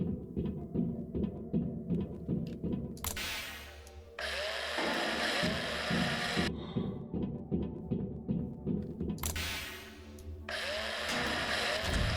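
A drilling tool whirs and grinds in the space survival game Breathedge as corpses are drilled, a steady mechanical buzz with pulsing rhythm and two sharp bursts of louder, harsher noise, no talking.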